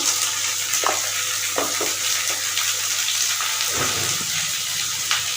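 Vegetables for shukto fry in a little oil while being stirred, giving a steady sizzle with occasional scraping stir sounds, fairly close and without talk.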